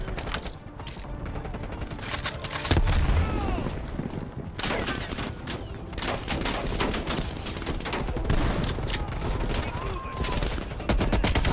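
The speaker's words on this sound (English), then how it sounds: "That's a shotgun." Shotgun blasts and other gunfire in a Call of Duty: Black Ops Cold War firefight near a motel, loud repeated shots amid chaotic battle noise, with voices shouting in between.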